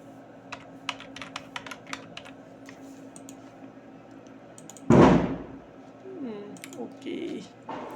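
Fingers type an email on a computer keyboard: a run of quick, close, crisp key clicks, then a pause and a single heavier thump followed by quieter shuffling.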